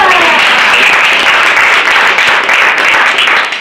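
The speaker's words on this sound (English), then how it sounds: "Round of applause for Shelley." A room of sales meeting attendees gives a dense, loud round of applause that holds steady for several seconds before tapering slightly.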